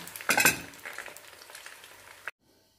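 Carp pieces deep-fry crisp in hot oil, crackling and sizzling up close with a loud burst of spattering at the start, then a busier, softer crackle before the sound abruptly cuts off.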